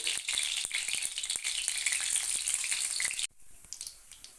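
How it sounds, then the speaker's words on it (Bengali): Bright, crackling sizzle of whole cumin seeds in hot mustard oil in a kadai, loud and continuous, then it suddenly drops away to quiet scattered pops near the end. "পরিমাণ মতন সর্ষের তেল দিয়ে দিলাম কড়াইতে তারই সঙ্গে ছোট চামচের এক চামচ গোটা জিরে ফোড়ন দিয়ে দিতে হবে"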